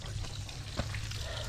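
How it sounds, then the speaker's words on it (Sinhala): A small stream of clear water runs steadily near a rock cave at a forest campsite, its soft continuous trickle and flow heard close by with no talking. "වතුර සද්දයක් යනවා."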